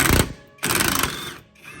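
An impact wrench works a trailing arm bolt on a 2002 Subaru Forester during rear subframe work. It gives two loud, close, rattling hammering bursts separated by a brief pause.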